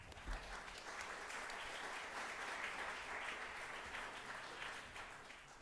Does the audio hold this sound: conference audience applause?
yes